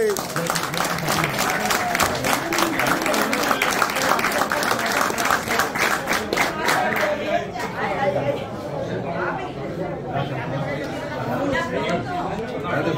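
Audience applause at an awards ceremony in Miami rings out as dense, steady clapping for about seven seconds, then thins into a loud murmur of crowd chatter with voices talking throughout.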